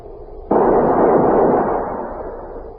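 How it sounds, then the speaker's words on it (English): A rifle volley fired at a funeral in a Western: one loud, simultaneous blast from a squad of rifles, followed by a long reverberant rumble that slowly fades. "ready to honor him with a volley from their rifles"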